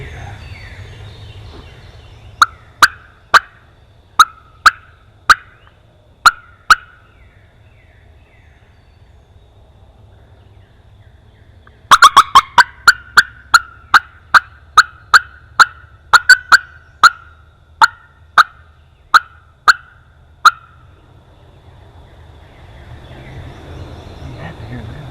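A wild turkey gobbles repeatedly during a Louisiana turkey hunt, loud sharp bursts in two series, the second quick and rapid, with quiet pauses between calls.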